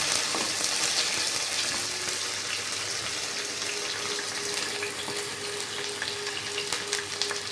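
Vegetables sautéing in a pan for a home-style cauliflower masala give off a steady, close hiss of frying that carries on without a break, with faint scraping from stirring.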